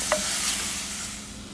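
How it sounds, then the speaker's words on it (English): Cherries and sugar stirred in a heated pan for crepe filling, giving a soft continuous sizzle with a faint scrape of the spoon near the start, steady and close throughout. "we're going to add in our cherries and give this a nice good stir."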